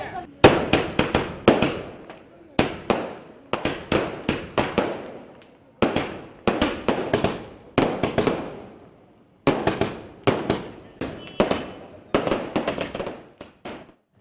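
Strings of firecrackers burst in rapid crackling volleys at a political party celebration, loud and close, coming in repeated bursts separated by brief pauses.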